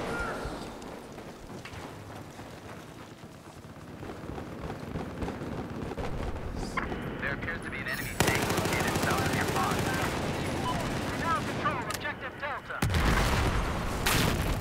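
Dense Battlefield 4 combat with sustained machine-gun fire and booming explosions filling the whole stretch, getting louder after the midpoint, with a player's voice talking over the din.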